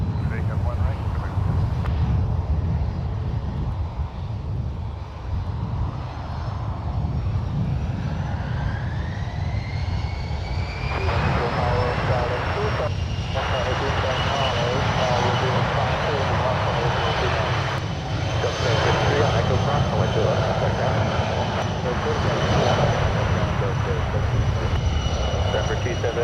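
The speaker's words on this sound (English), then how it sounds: "That was the Challenger 604 departing to Montreal." A Challenger 604 business jet takes off from runway 1 right at San Francisco International, its engine roar building while a rising whine climbs and then levels into a sustained high tone, with voices heard in the background.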